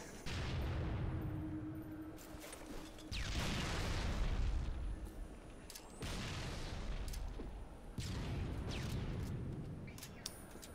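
Grenade blasts in the Halo 3 video game, three or four heavy, booming explosions a few seconds apart, each with a long rumbling decay and sharp crackles, loud and close.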